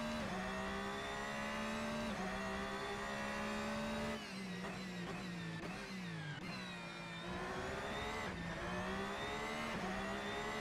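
A race car engine in Assetto Corsa at Laguna Seca, loud and continuous, revving high through the gears with quick dips at shifts and a climbing whine, no voices over it.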